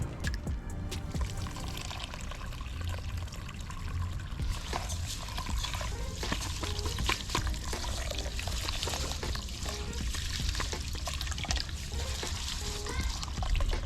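Water pours and trickles into a pot as rice is washed, a steady splashing stream with some low background noise throughout.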